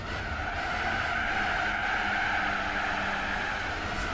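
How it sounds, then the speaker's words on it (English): Tyres skidding as a car drifts through a hairpin in Gran Turismo 4, a continuous loud squeal over a droning engine without pause. "Let's try and drift it here at the hairpin."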